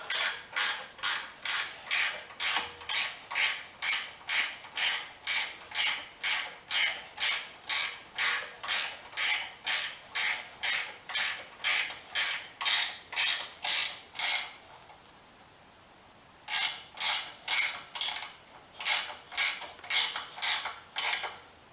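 A wrench ratchets on suspension bolts during a Willys front and rear end install, a long run of evenly spaced creaking clicks, one per swing, pausing briefly before resuming at the same rhythm, close and clear with no talk.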